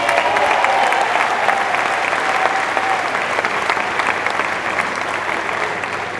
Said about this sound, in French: J'aimerais que vous applaudiez très fort Alex Lolia,